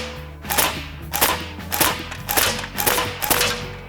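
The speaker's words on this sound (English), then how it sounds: "The first 7 pellets made one ragged hole, so I loaded another magazine to see what the rifle was capable of." An Evanix GTK 290 air rifle fires pellets in six sharp, evenly spaced cracks about half a second apart, close and loud, each with a short ringing tail.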